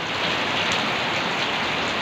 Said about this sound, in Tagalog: Katikim din kami ng ulan.